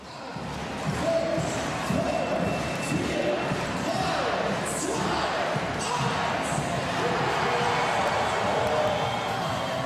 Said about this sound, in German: Jubel in Trier